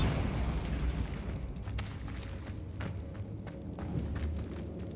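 A Bombarda explosion spell going off in Hogwarts Legacy: a low rumbling burst with scattered crackling debris hits, steady and moderately loud throughout, with no voices over it.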